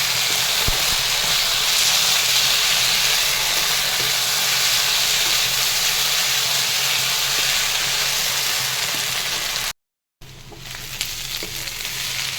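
Ginger-garlic paste frying with spices in a pan gives a steady, loud, close sizzle throughout, broken by one brief dropout near the end before the sizzle returns.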